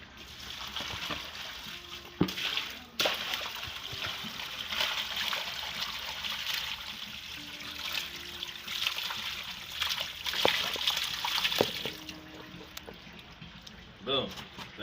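Water poured out of a juvenile catfish tank, a soft trickling and splashing flow under intermittent talk, fairly quiet and continuous.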